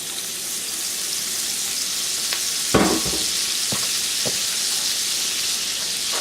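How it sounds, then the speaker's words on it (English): Blanched fresh Brussels sprouts sautéing in bacon drippings in a pan, a constant steady sizzle with a few clanks and scrapes of stirring, close and loud. "fresh Brussels sprouts, lightly blanched, just for a couple of minutes. And then sauteed."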